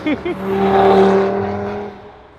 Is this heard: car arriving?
yes